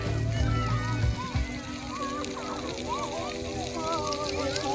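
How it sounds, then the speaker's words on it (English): Splash pad water park with water sloshing and splashing alongside children's shouts and chatter, a low thump early on, and lively voices throughout. "We're on the water park"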